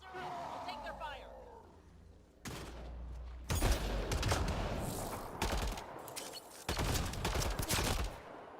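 Bursts of rapid gunfire in the sci-fi video game Mass Effect: Andromeda, loud volleys and sustained automatic fire with pauses, mixed with game sound effects and some voices talking.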